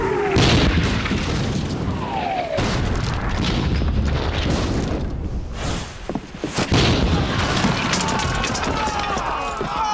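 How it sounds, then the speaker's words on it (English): Cannon loaded with grape shot fires aboard a period naval vessel, a loud sustained boom and rumbling blast filling the scene, with shouting and movement around it. "Swing the cannon round this way, loaded with grape shot in case."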